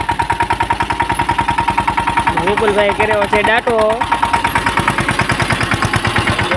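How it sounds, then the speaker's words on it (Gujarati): A tractor engine chugs at a steady idle-like throb in a farm field, close and loud and continuous throughout, with someone speaking over it. "વિપુલભાઈ જો કેમ ચલાવે ટ્રેક્ટર"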